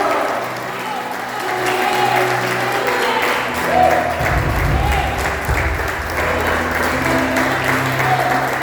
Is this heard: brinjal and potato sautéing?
no